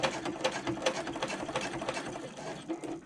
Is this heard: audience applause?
no